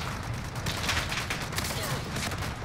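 Gunfire in Call of Duty Warzone, a busy spread of shots and cracks through the whole short moment over dense game noise.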